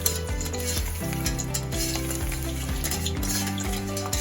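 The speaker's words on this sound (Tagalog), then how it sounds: "Siguraduhin mainit yung mantika. I-ano na po natin tong garlic." Garlic sizzles and crackles in hot cooking oil in a pan, a steady close frying hiss with stirring clinks of a utensil, no talking over it.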